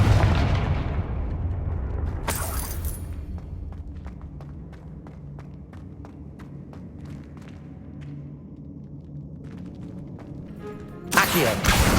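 Fiery Confringo spell blasts erupt in the video game Hogwarts Legacy. Two loud, sharp explosions land several seconds apart, separated by quieter game ambience and light footsteps.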